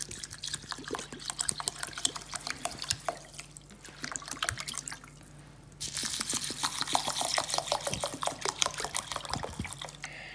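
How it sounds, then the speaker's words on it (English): Water poured over rice, dal and fenugreek seeds in a bowl to soak, heard as a continuous close splashing and trickling stream with dense droplet patter, briefly easing before resuming louder. "Now I'm gonna soak rice, dal and fenugreek seeds."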